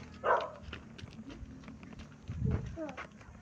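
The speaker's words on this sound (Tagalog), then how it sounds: "Andiyan yung aso." A dog barks sharply near the start, with people talking and outdoor street noise around it.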